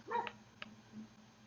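Neighbor's dogs barking faintly in the distance, two or three short muffled barks over a low steady electrical hum, with no talking.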